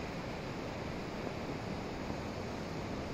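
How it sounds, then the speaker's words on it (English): Waterfalls pour down steep rock cliffs above a mountain stream near the Sukh Dhali pass in the Himalayas, a steady, dense broadband roar of falling water holding constant throughout with no voices. "Waterfalls dropping down everywhere"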